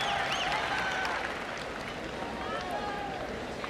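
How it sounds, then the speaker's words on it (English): Crowd at a 1989 US Open tennis match applauding and cheering in a steady, dense wash of clapping that holds throughout, with a commentator's voice faintly mixed in. "This crowd heating up now."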